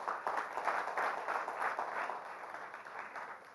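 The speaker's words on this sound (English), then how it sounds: "Can we have a big round of applause for that, please?" An audience applauding at a conference address, a continuous rippling roll of many hands clapping, even and moderately loud, slowly thinning toward the end.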